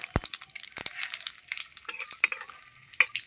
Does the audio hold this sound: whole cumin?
yes